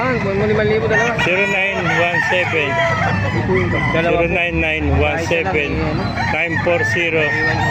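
Roosters crow repeatedly and chickens cluck throughout a busy, loud poultry market in Calumpit, Bulacan, with people talking in the background among the birds.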